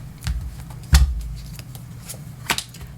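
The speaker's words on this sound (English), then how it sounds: "Every day I'm shuffling." Tarot cards being shuffled by hand, a few sharp riffling bursts and soft slides spaced irregularly across a few seconds, close and clear with no talking.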